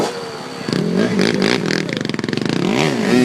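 Dirt bike carrying four riders, engine revving hard with rattling clatter, loud and close, starting after a brief quiet moment and surging in uneven bursts.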